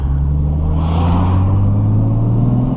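A 1989 Toyota Supra engine runs steadily while driving, with a loud, close, continuous low drone whose pitch climbs gently as it pulls, and no talk.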